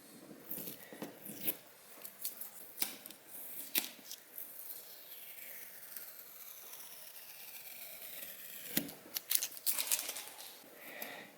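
Tape being cut and torn off clutch lines in a cold garage: scattered sharp ripping and crackling pulls at close range, some brief and some drawn out, with quiet gaps between.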